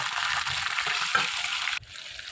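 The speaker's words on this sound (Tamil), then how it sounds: "சின்ன வெங்காயம் போட்டு நல்லா கிண்டி விட்டுக்கோங்க" Small onions sauté in hot oil with a loud, continuous frying hiss, with soft stirring bumps underneath. The sizzle drops off abruptly near the end, leaving a quieter hiss.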